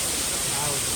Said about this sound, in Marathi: मस्त वॉटरफॉल आहे.